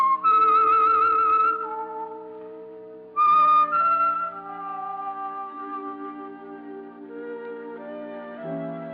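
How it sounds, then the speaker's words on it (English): Whistled theme of the 1946 radio program The Whistler, a clear lone melody of sustained tones with a slight waver, backed by a soft orchestral accompaniment. "That whistle is your signal for the Signal Oil program, The Whistler."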